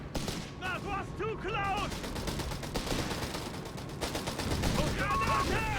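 Machine gun fire rattles in Company of Heroes 3 as bursts of rapid shots under continuous battlefield noise, with a commentator talking over it.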